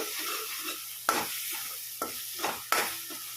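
Popcorn curry fries in a pan with a soft steady sizzle, broken by four sharp scraping stirs of a spoon against the pan, all close by and with no talking.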